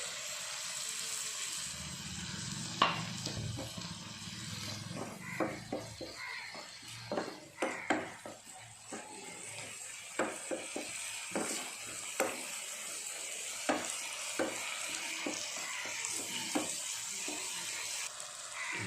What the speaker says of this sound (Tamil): இப்போ அந்த தக்காளி நல்லா வதங்கிடுச்சு.